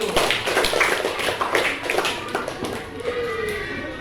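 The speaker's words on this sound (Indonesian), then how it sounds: "Ya, tepuk tangan dulu." Students in a classroom clap together loudly and close by, a burst of quick overlapping claps with a faint voice underneath.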